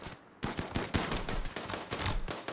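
Rapid bursts of gunfire rattle continuously in a dense, loud barrage of overlapping shots from a RimWorld video game battle.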